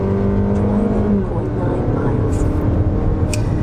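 A 2020 Mazda CX-30 AWD accelerates along a straight road, its engine hum and road noise rising steadily from inside the cabin, with a low tone shifting partway through.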